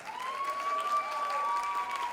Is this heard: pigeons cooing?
no